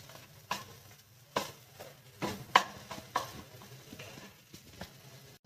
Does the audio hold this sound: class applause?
no